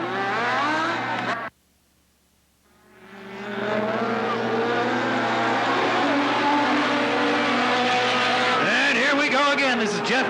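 Race cars at Riverside Speedway (Cottage Grove) in 1991 roar around the track in a loud, sustained engine drone with a brief dropout, then rising revs and squealing tires as cars spin out, under an announcer's commentary.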